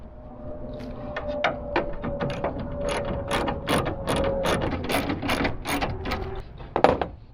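Ratchet wrench tightening the tail light bolts on a Nissan Frontier pickup, a fast run of close, loud clicking strokes in quick bursts with a brief pause before a final sharper click.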